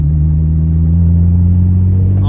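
A BMW E46 M3 with a manual gearbox, heard from inside while driving, gives a loud, steady low engine drone and road rumble that holds evenly throughout.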